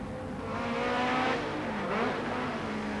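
A Ford Sierra Group A race car engine roars past at high revs on the Macau Guia circuit in 1990, rising then falling in pitch as it goes by, loud and close with no talk.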